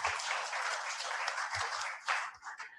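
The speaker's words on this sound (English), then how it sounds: "another round of applause for Grum for his presentation" A round of applause from the audience after a presentation at a gathering on IoT projects in Africa, steady dense clapping for nearly three seconds that swells briefly near the end before fading.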